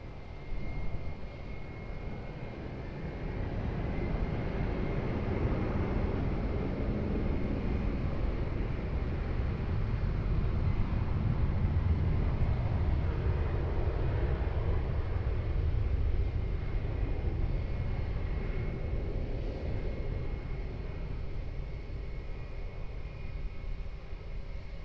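An airliner takes off at Lisbon Airport, its engines giving a steady, loud, broad roar that holds for the whole stretch and eases slightly toward the end, with no voices.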